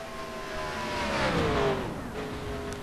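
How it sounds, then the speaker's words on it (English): Race car in a racing video game downshifting into turn 1 at Pocono Raceway, engine whining with falling then rising revs as the throttle is worked, close and fairly loud. "A little bit of clutch in there, downshifting, playing with the throttle"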